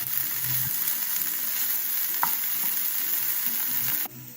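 Mackerel fries and gets stirred in a pan, giving a steady close sizzle with soft scraping and one small clink, cut off abruptly near the end; no one speaks.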